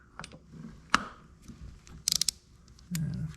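A ratchet wrench set to tighten is worked during a first oil change on a C36 AMG with the M104 engine, giving a few sparse clicks and a quick burst of rapid ratcheting, faint and close in a quiet space.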